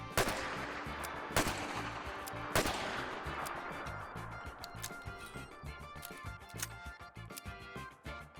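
A Bulldog Revolver fires in a modded Fallout 4 game: a few sharp, spaced gunshots, each with a ringing echo tail, over a fainter rumbling background.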